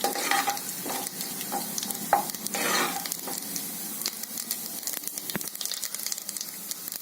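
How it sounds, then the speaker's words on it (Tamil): Curry leaves, chana dal and urad dal frying in hot oil for vegetable rice, a steady close sizzle with occasional stirring scrapes and clinks of a spoon against the pan. "கருவேப்பிலை, கடலைப்பருப்பு உளுந்தம்பருப்பு கொஞ்சம் சவக்கட்டும்"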